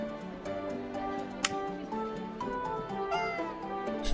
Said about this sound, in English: The cat meows just added to the soundtrack is so good.